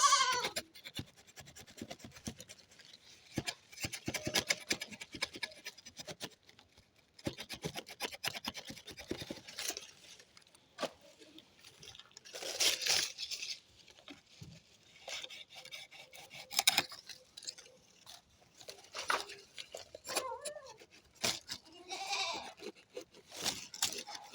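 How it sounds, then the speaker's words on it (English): Knife scraping bark from a soursop branch down to the white inner wood for air layering, close irregular rasping strokes in bursts with short gaps, no talking. "So just gonna scrape it."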